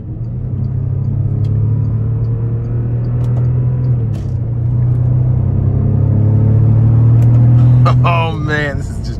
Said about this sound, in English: push this 12-cylinder twin turbocharged engine to its limits.